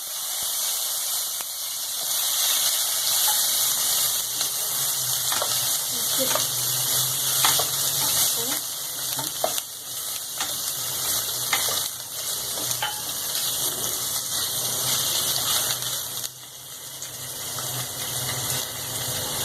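Paneer pieces fry in a pan with cumin and coriander for palak paneer, giving a continuous close sizzle and crackle broken by scraping stirs throughout.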